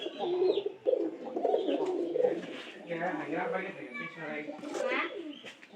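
Low, throaty cooing from pigeons nearby, repeated over several seconds with people talking over it.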